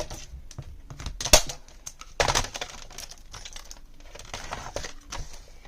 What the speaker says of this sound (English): I'm going to trim off a little bit here.